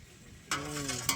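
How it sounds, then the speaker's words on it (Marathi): Tap water pours into a metal mug (tambya), a short close splash starting abruptly after a quiet moment, with a slight rising ring as the vessel fills. "आता नळाचं पाणी घ्या तांब्यात."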